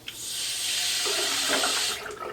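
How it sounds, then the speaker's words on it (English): Hot soapy water runs and splashes steadily while motorcycle parts are washed, a continuous close rushing that tapers off near the end. "So now, just good old hot soapy water wash."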